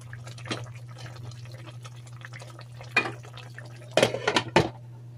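Metal lid placed on a pan of pork liempo cooking on the stove: light clinks and clatter, with a few sharper metallic knocks near the end over a steady low hum and faint sizzling.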